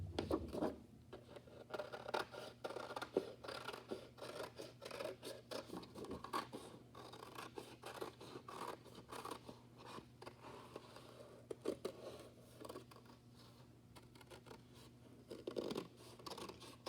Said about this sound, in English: Now your pumpkin is ready to be cut out.